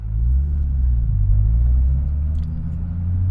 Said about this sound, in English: I'm going to pull away from the stop sign.